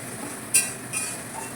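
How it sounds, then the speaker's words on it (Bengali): Capsicum being stirred in a cooking pan: two quick metallic clinks of a utensil against the pan about half a second apart, close and fairly sharp over a soft background hiss. "ক্যাপসিকামগুলো দিয়ে নেড়ে চেড়ে একটু জল দেবো"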